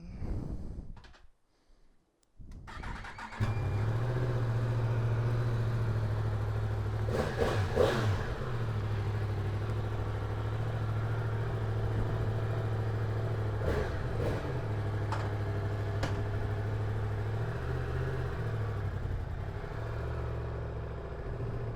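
A new 2024 Yamaha MT-10 motorcycle cranks and starts after a quiet moment, then settles into a close, steady idle with a couple of short throttle blips.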